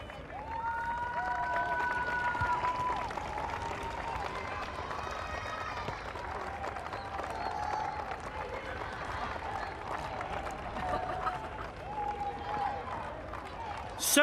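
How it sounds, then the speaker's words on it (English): Crowd applause at the medal ceremony of a women's hockey tournament, a sustained wash of clapping from a distant audience, fairly faint, with a voice speaking over it on the public address. "please give them an enormous round of applause"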